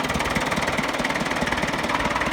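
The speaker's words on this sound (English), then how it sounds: "Engine sounds really good." A 1967 International Harvester B275 vintage tractor engine runs steadily at close range, a continuous loud idle with an even, rapid low knocking pulse throughout.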